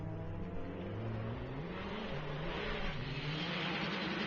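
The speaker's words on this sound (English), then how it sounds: "That car in the distance of Mike Nichols" A rally car engine at a forest rally shakedown drones in the distance, a steady, moderately faint mechanical hum with gently rising and falling pitch as it works along the stage.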